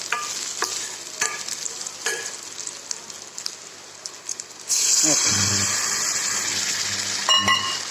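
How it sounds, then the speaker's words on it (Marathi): Coarsely chopped onion roasts in a pan for a tomato stuffing. Quiet stirring clicks give way midway to a loud, steady sizzle that continues to the end. "थोडा भाजायचा कांदा"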